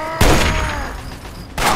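Gunfire in Fallout 3: two sharp, loud bursts of shots, the first followed by a ringing, decaying tail before a second blast near the end.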